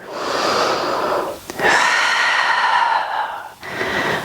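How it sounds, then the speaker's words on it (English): During a hip-stretch yoga flow, an instructor breathes in audibly through the nose, two long, close, airy inhales separated by a brief pause, with no talking. "breathing in."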